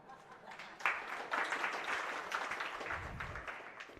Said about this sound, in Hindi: आप लोगों ने ताली बजा दी